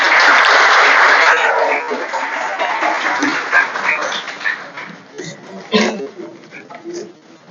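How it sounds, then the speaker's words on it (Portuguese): An audience at a spiritist talk applauds, a loud burst of clapping at the start that gradually thins into scattered claps, with voices and some sung or spoken sound mixing in as it fades. "Muito bem, palmas para vocês."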